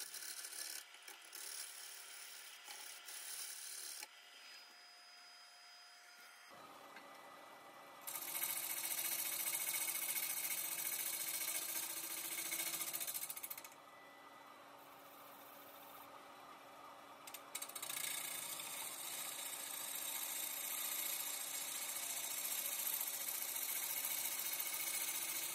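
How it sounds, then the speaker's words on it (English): A half-inch bowl gouge makes a push cut along the outer diameter of a warped wooden piece on a lathe, producing a faint hissing, scraping rasp that comes and goes in stretches over a quiet background. "Here I'm just using a half inch bowl gouge and just using a push cut along the outer diameter."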